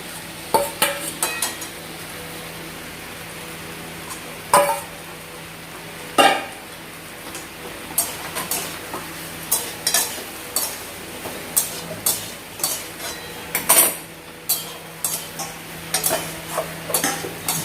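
Eggplant and bitter gourd frying in a pan, a low steady sizzle broken by frequent sharp clinks and scrapes of a utensil against the pan, close by and without voices.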